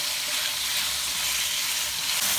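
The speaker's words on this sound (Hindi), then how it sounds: "5 मिनट तक अच्छी तरह से हम भून लेते हैं।" Chicken fries in a karahi pan with salt, turmeric, garlic and ginger, giving a steady, loud, close sizzle that continues without pause and has no talk over it.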